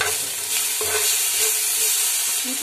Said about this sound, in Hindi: तो मसाले अच्छे से भून चुके हैं